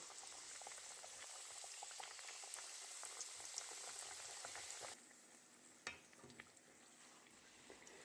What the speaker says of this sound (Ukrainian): Це вже інші чебуреки відправляю смажитися.